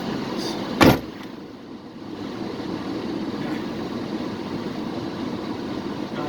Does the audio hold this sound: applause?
no